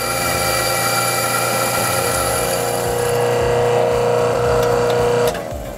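Mahlkonig GH2 coffee grinder grinding espresso coffee: a loud, steady motor whine with a rough grinding rasp, running continuously close by, then cutting off abruptly near the end.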